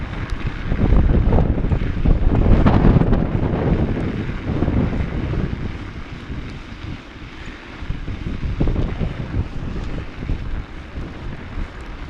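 Strong wind roars steadily across a microphone outdoors during a snow bike ride in polar vortex cold, a broad gusting rumble that swells and eases without letup.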